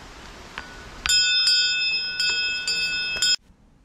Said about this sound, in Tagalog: lagi may mga bell kasi may mga bear